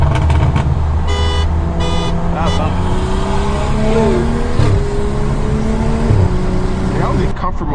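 A BMW F10 revs up in comfort mode at a big BMW show, its engine rising in pitch through several climbing sweeps, loud and close, with horn-like toots early on and voices around.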